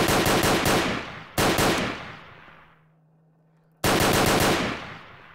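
An AK rifle fires in a video game war match: loud, close automatic bursts that rattle fast, break off briefly, then resume, with a short gap of quiet hum between volleys.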